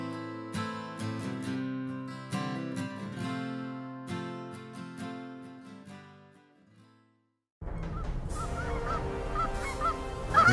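Geese honking on a waterfowl hunt, coming in after a steady tonal passage and a brief pause; the last few seconds fill with a dense, loud chorus of overlapping honks from a flock.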